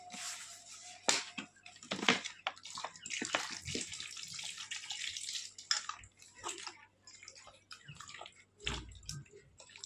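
Water splashes and trickles while cut papaya pieces are rinsed by hand, irregular close splashes, drips and squishing bursts with brief pauses between them.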